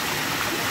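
Water pours steadily from the ritual shower spouts at a temple, a dense, continuous rushing splash close by with no pauses.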